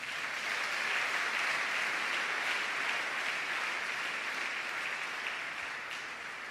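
A church congregation applauds with sustained, even clapping that fills the space from start to finish, dense and steady without pause.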